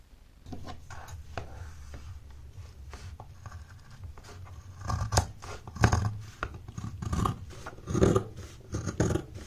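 Scissors cut along a marked hem line in fabric, producing a series of close, crisp snips and rubbing sounds that grow louder and more frequent toward the end.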